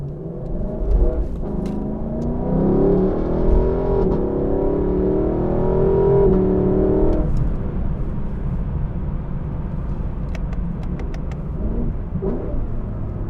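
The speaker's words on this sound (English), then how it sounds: "Much better acceleration off the line. A lot of that has to do with the fact that this is naturally aspirating." Naturally aspirated engine of a Lexus LC 500 convertible pulls hard off the line, its rising harmonic note climbing steadily for several seconds before easing off into a lower rumble and road noise, close and loud.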